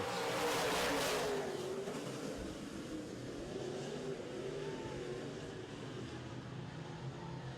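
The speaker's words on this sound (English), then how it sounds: "and Greer will bring them to the green, and we're going racing for Very Cozy Trucking and Beaver Truck Centers." Modified race cars roar around a track in a steady, dense wash of engine noise, loudest as they pass at first and then holding a broad, continuous drone.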